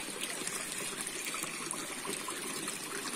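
Tuborg beer pours into a glass at a camping spot near Dharamshala and McLeodganj: a steady, fizzy stream of liquid sounds continuous and close for the whole stretch, with no talking.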